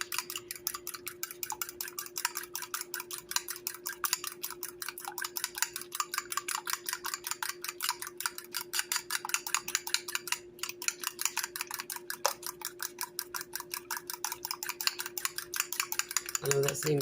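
Eggs whisked briskly in a bowl, a dense, rapid and very regular metallic clicking that carries on close and unbroken for the whole stretch, without talk.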